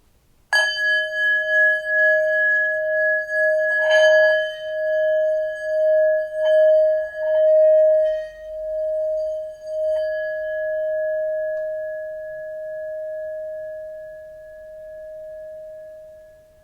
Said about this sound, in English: So you can listen to my singing bowl.